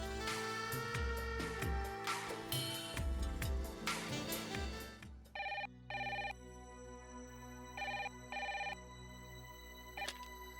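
A telephone rings in bursts of about half a second, a pair of rings repeated twice over a low hum, following a stretch of louder music during an outgoing call in an Indian drama series.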